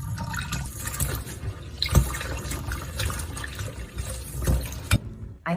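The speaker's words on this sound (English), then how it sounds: "I'm thoroughly washing the veggies because it really gets rid of the dirt" Running water splashes over vegetables being washed, a faint uneven trickle with occasional sharper splashes and drips, heard alone without talk.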